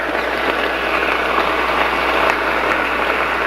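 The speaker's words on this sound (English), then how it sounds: "And I think this one's supposed to simulate rainfall, like a nice steady rain." A Roffie white noise sound machine plays a steady rainfall setting, a dense, even hiss of falling rain that holds constant at a fairly loud level with no breaks.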